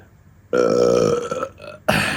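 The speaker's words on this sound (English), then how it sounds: "I could burp." A single loud, drawn-out burp close to the mic, followed after a brief pause by a shorter second belch.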